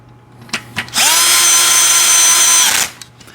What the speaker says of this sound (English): And this one I'll use the power tool since we're right here.